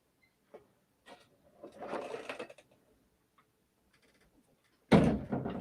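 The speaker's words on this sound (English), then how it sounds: "I had to shut that door" An indoor door next to a live storm-weather broadcast space is pulled shut with a loud, close thump near the end, after several softer rustles and shuffling movements.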